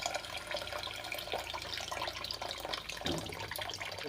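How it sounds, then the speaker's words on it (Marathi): Water pours steadily into a pan of cowpea vegetables with a continuous splashing rush, close and fairly loud, without any talking. "तेवढं पाणी यामध्ये टाकायचं आहे"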